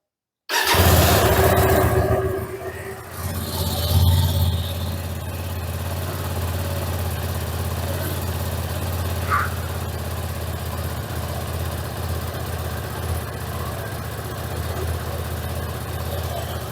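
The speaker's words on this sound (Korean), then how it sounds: "그래서 시동성과 이제 배기음을 들어보도록 할게요." A Hyosung Aquila 300 cruiser motorcycle engine cranks and catches, revs briefly, then settles into a steady, throbbing idle that continues close by.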